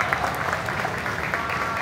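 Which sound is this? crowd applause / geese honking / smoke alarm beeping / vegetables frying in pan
crowd applause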